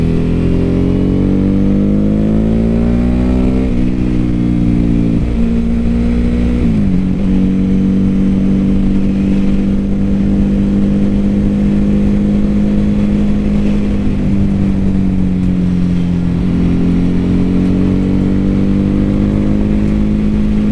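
A 2006 Ducati 749 motorcycle engine drones loudly and steadily while being ridden. Its pitch climbs and dips through gear changes and throttle shifts, with constant wind rush.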